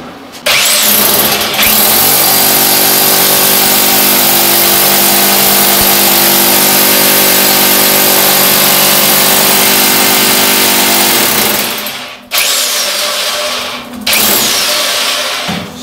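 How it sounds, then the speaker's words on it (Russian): A loud, continuous rotary hammer roar drones for about twelve seconds while drilling to mount a shower holder in a shower cabin, cuts out briefly, then runs again in shorter bursts close to the microphone. "я сейчас буду бурить перфоратором"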